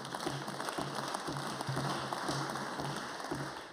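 Steady applause fills a parliament chamber during a budget statement. It is a continuous wash of many hands clapping at even loudness under a faint low hum, with no voices.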